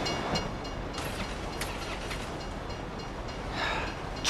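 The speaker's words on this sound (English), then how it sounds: "If you were local, you'd know the train comes by right now." A train rumbles steadily past in Grand Theft Auto 5, a continuous broad rolling roar with faint rhythmic clacks over several seconds, heard without talk.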